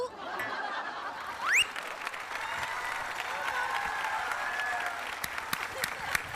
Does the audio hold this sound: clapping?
yes